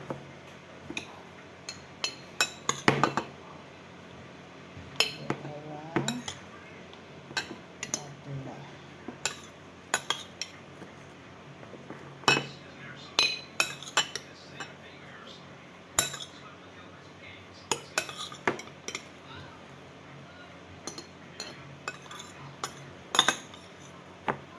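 Young coconut (buko) meat spooned into a container for buko juice, a series of close, irregular clinks and taps of a utensil against the container over a quiet room.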